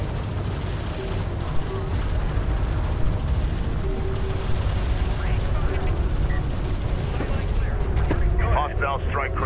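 Dense battle gunfire and turret fire from the Homeworld: Deserts of Kharak real-time strategy game rattles continuously with booming impacts, while radio-style voices talk over the combat.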